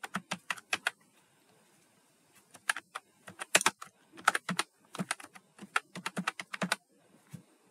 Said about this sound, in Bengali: তাহলে এখানে লিখলাম জাহিদুল ইসলাম